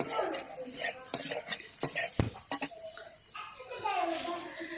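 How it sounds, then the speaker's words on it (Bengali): Onion-garlic masala being stirred in a wok with a spatula, a series of metallic scrapes and knocks in an uneven rhythm, with a voice talking in the background. "এবার খুন্তি দিয়ে সুন্দরভাবে আমি মশলাটা দিয়ে মশলা বলতে পেঁয়াজ রসুন দিয়ে আবার একটু কষিয়ে নিলাম"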